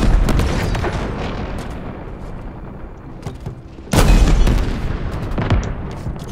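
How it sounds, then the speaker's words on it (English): Heavy weapon fire from the incineration cannon in the video game Halo 4, a dense rumbling blast with a sharp loud burst midway, set among continuous booming battle noise with no talk. "Incineration cannon is cool."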